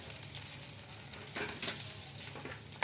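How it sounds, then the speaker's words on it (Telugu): Spices for tempering sizzle in heated oil in a kadai, a steady crackling fry with a few brief stirring scrapes, moderately close and alone. "ఇప్పుడైతే అదే కడాయిలో అయితే ఆయిల్ వేసుకొని పోపుకి అయితే పెట్టేసుకున్నానండి."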